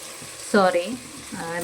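Tomato and salt frying in a pan while a home-style rice bath is cooked: a soft, continuous sizzle under a person talking briefly.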